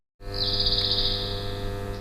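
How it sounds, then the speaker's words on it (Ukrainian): Birds chirp and sing inside an idle factory workshop, a bright continuous trill close by over a steady low machine-like hum, with no talking. "Замість шуму верстатів у цехах спів птахів"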